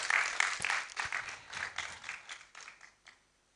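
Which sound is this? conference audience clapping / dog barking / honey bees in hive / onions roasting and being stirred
conference audience clapping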